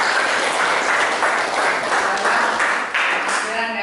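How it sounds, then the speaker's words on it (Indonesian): Audience applause in a hall, a loud close burst of clapping with a voice cutting through, pulsing in waves before trailing off. "Oke, kasih tepuk tangan dulu"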